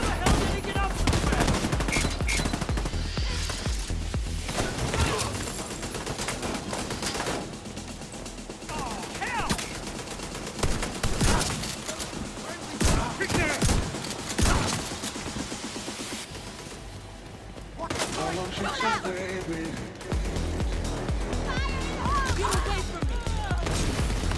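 Turrets fire in the video game The Division 2, a loud, dense barrage of rapid automatic gunfire bursts and sharp impacts that continues almost throughout, with short lulls and a voice speaking now and then underneath.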